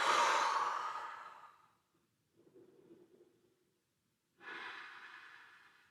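Heavy exhalations during a lower-body workout floor exercise, a loud breathy sigh followed by a softer low breath and another strong exhale, close and alone.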